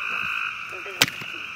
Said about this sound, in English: He may not be the biggest frog in the world